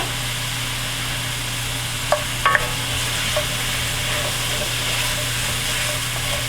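Bacon bits with peppers and onions sizzle steadily in a frying pan, a continuous crackling hiss with a low hum beneath and a few brief clinks near the middle.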